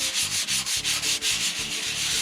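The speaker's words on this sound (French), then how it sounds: "on va venir poncer légèrement toutes les intersections" Fine-grit sandpaper lightly worked over the intersections of a wooden secretary desk: steady, close rhythmic rubbing strokes, about two per second, with no voices.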